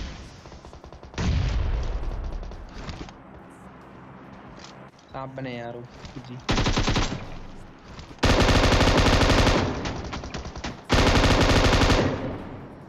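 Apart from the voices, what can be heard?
M249 machine gun firing in a video game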